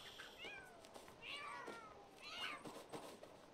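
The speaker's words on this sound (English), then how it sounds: "Oh my god, the cats are fighting again!" Video game cats fighting, with repeated rising meows and drawn-out caterwauls coming in several bursts over a faint background.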